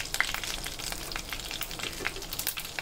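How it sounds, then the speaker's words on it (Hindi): Whole dry spices and bay leaf sizzling and crackling steadily in hot oil with small popping spits, close and fairly loud, with no voices. "इसमें मैं डाल दूँगी अभी सारे सूखे मसाले"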